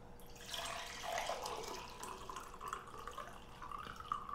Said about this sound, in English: I'm going to go ahead and pour this off now